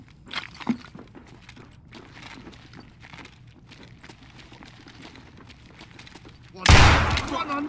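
Shotgun firing RIP slugs in a shooter game: a few sharp shots early on and one loud, close blast near the end, with footsteps and quiet background sounds between them, and someone talking.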